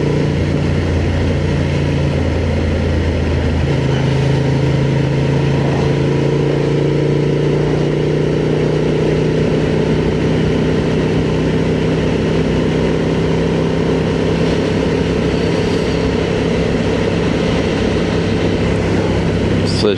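A Honda 750 Transalp motorcycle engine cruises steadily in fourth gear at about 4,000 revs, a continuous low drone with wind rush that stays constant throughout, under a rider's talk.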